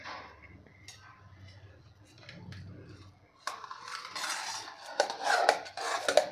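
A metal utensil cuts and scrapes steamed methi vadi pieces, a gram-flour and fenugreek snack, loose on a plate, giving clinks and scrapes that grow busier and louder in the second half, with no talk over them.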